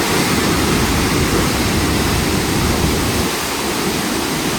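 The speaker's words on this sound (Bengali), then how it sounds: "আপনারা দেখুন এই উশ্রী ফলসের রূপ কতটা ভয়ঙ্কর হতে পারে এই বর্ষাকালে।" Usri Falls pours at full monsoon force, a loud, dense roar of rushing water that holds steady and unbroken throughout.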